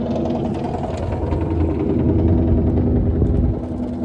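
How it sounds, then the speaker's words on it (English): Loud, rough car exhaust rumbles from outside with a deep, steady, throbbing drone that swells slightly midway and then eases off near the end. No voices are heard. "That's not a helicopter, that's someone's exhaust."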